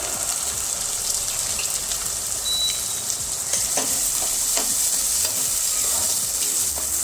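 Chopped tomatoes and green chillies cooking in a pan with oil, a continuous bright sizzle with occasional soft stirring scrapes, close and steady throughout.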